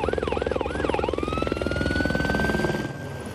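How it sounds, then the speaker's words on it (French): Water-bomber helicopter just after a water drop during a wildfire in a heatwave, its rotor thumping in a rapid, steady beat close by, with a rising whine over it and no talk. "C'est un hélicoptère bombardier d'eau"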